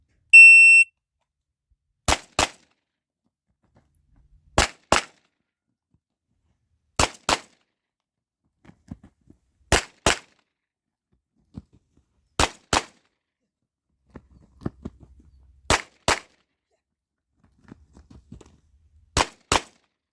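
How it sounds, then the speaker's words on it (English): Pistol shots fired in a timed shooting drill, sharp and loud, arriving in evenly spaced pairs across the stretch with near silence between them. "It should be about 14 shots."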